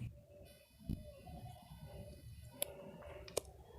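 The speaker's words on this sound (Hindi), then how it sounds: "अब हम इस प्लस के आइकन पे क्लिक करेंगे" Computer mouse clicks on a plus icon: two or three isolated sharp clicks, faint and close, over low background hiss and quiet hum.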